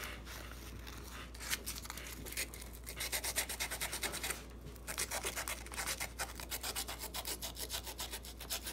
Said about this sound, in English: Might have to hit this with a little more sandpaper.